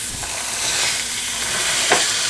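Onions hit a hot pan with beef and sizzle loudly and evenly, with a couple of soft stirring clicks and no talking.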